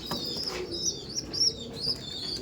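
Giribaj pigeons in a loft give soft coos and chirps, several short calls repeating across the moment over a low, steady room rumble, with no one talking.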